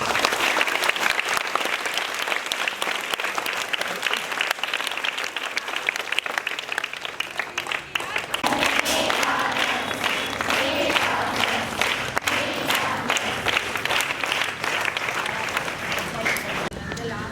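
An audience at a school event marking Vijay's birthday celebration applauds. Dense, sustained clapping from many hands fills the space at close range and continues steadily throughout, with a few voices mixed in.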